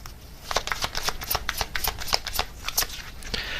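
Tarot cards shuffled and riffled near the deck, a busy run of crisp flicking and slapping card strikes across the whole span, with no talking over it.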